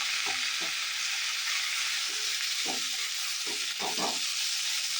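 Capsicum and onion fry in a pan under a constant hissing sizzle, broken by several hollow knocks and scrapes of a utensil stirring against the pan.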